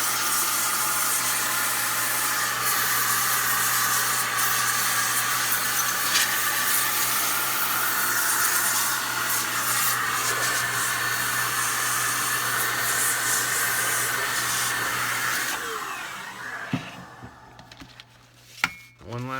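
Compressed air blasting steadily across an iPad 10.2-inch 2019 (iPad 7) screen during a screen replacement repair, a loud continuous hiss lasting about fifteen seconds before cutting off into a few faint handling clicks.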